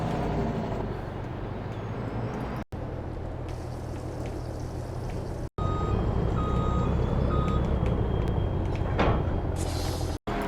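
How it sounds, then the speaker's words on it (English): A farm truck reverses with a steady, evenly spaced backup beep repeating over a constant low engine idle, close and loud throughout, with a couple of brief dropouts. "the truck will probably back him up to our big animal trailer"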